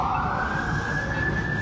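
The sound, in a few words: emergency vehicle siren blaring in the street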